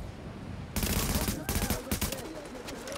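Rapid automatic gunfire from weapons in the video game Tom Clancy's The Division, a dense continuous burst of shots with a few sharp accents, loud against steady background noise.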